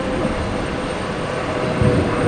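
An airliner takes off from Brisbane Airport during the Cyclone Alfred aircraft evacuation, giving a loud, steady broadband jet roar and rumble that swells slightly near the end, with no voices.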